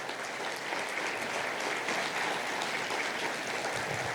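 A crowd at a mayor's State of the City address applauds continuously, a steady, moderately distant patter of many hands clapping with no voices over it.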